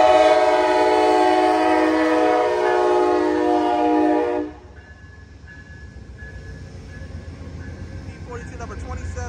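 The Amtrak Coast Starlight #11, led by ALC-42 locomotive #319, sounds a loud, sustained horn at close range for about four seconds. The horn cuts off abruptly and gives way to the quieter rumble of the passing train.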